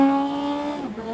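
A Kawasaki KLE500 SE motorcycle engine holds a steady drone, then drops in pitch with a quick throttle blip as it downshifts without the clutch, loud and close.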